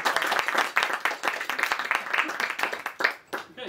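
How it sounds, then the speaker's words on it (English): An audience at an evening talk claps, a fairly small crowd producing quick, uneven individual claps close by that stay lively for several seconds before thinning out. "Big round of applause for Chris."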